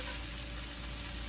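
Onions cooking down in a pan give a steady, even sizzle that holds at a moderate level throughout, with no voices over it.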